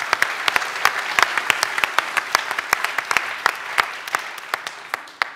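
Steady audience applause fills a lecture hall after a talk, many hands clapping at a moderate distance with sharp individual claps standing out, and no voices heard.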